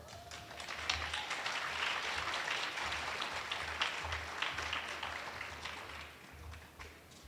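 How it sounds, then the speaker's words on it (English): Applause from a school talent show audience at Cascade Christian Academy, a steady wash of clapping that swells early, holds, then gradually thins toward the end, heard from a moderate distance. "Please give her a round of applause"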